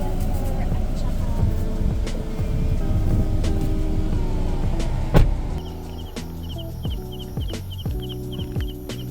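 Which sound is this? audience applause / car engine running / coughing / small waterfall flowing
car engine running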